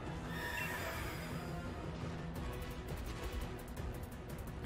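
A horse neighs loudly in the video game Pokémon Sword and Shield: The Crown Tundra, a long whinny followed by rapid rhythmic hoof-like clatter, with no talking over it.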